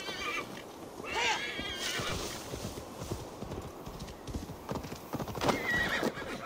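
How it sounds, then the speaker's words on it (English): A horse in the video game Assassin's Creed Valhalla whinnies, then hooves pound in a quick galloping rhythm, with a second neigh later, all fairly close and with no talking. "Let me get the horse."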